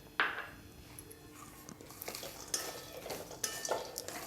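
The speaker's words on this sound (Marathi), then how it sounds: "अक्रोड वगैरे हे सगळं एकदाच मस्त छान एकदम भाजून घ्यायचं आहे आपल्याला" Walnuts and pistachios dry-roasting in a pan, faint light sizzle with intermittent scraping and clinks of a spoon stirring the nuts, quiet and close with no voices.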